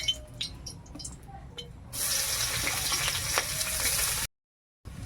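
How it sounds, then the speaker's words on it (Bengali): Chopped onions hit hot oil in a wok with a sudden loud hiss that becomes a steady bright sizzle, preceded by quieter kitchen clatter and cut off abruptly near the end. "কড়াতে তেল দিয়ে দিয়েছি, তেল গরম হয়ে গেছে। এবার পেঁয়াজ কুচি দিয়ে দেবো।"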